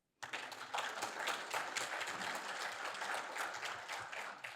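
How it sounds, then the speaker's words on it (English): An audience at an Arab American Month lunchtime event breaks into sudden, steady applause, a dense wash of clapping that starts sharply and carries on evenly throughout, with no talking over it. "Please give him a round of applause."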